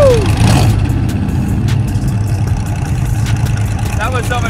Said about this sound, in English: Truck drivers, start your engines.